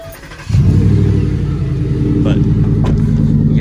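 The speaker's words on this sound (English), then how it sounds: "I'll go ahead and start the truck if you guys want to hear it real fast" A Ford F-150 street truck engine with an aftermarket exhaust cranks and catches, then settles into a loud, deep, steady rumble with a slight rise in revs, close by.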